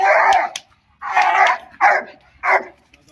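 Fierce guard dog barking loudly and close, four harsh, separate barks spaced roughly half a second to a second apart, with nothing else heard around them.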